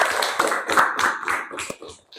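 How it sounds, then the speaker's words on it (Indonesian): Classroom audience applause for a student presenter at a junior high school, a burst of quick uneven hand claps from several people, loud and close, thinning toward the end. "beri aplaus untuk Saki"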